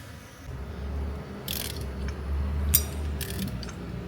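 A Toyota 1HZ diesel engine is cranked over by hand toward top dead centre, giving a steady low mechanical rumble with a few sharp ratcheting clicks from the wrench, close and alone without talk.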